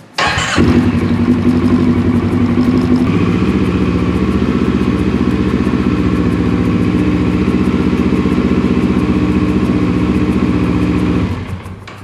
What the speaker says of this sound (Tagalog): we're gonna start the bike and run the bike